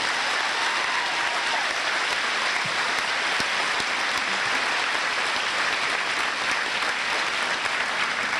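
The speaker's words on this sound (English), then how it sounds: "Please give them your applause." At a 2012 high school graduation ceremony, a large audience gives a dense, continuous round of applause for the senior class officers, loud and steady from start to finish like heavy rain.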